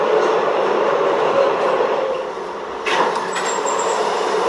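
New York City subway Z train running on the track, a steady loud rumble and rattle heard from inside the car, with a brief screech near the end.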